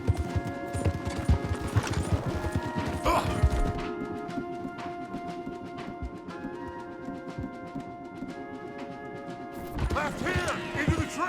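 Horses gallop hard in a video-game chase, their hooves clip-clopping in a quick, steady rhythm close by. The pounding runs continuously over tense music, with occasional creaks and clatter.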